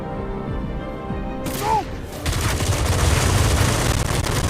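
Gunfire erupts in the video game Batman: Arkham Shadow, a dense, continuous fusillade of rapid shots that follows a brief whoosh and then holds loud and steady.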